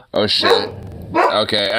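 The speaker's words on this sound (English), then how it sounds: "your dog is making my dog go off" Dogs bark sharply in a home, a husky among them, in close loud bursts at the start and again near the end, with a person speaking over and between the barks.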